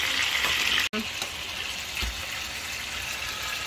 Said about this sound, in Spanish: Vamos a ponerle un pedazo de cebolla y los ajos también los vamos a freír en el mismo aceite